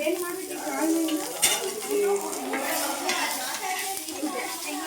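A few fenugreek seeds frying in a pan on a home stove, a light sizzle under clinks and scrapes of a utensil against the pan, close by with faint voices in the background.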